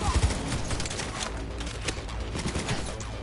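Gunfire in Cyberpunk 2077 on PS4 Pro rattles in rapid, overlapping volleys over a noisy in-game firefight, loud and sustained with no speech.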